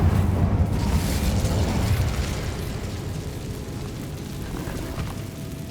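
An Incendio fire spell in Hogwarts Legacy goes off as a booming fiery blast that is loudest at the start, then trails into a long rumbling decay.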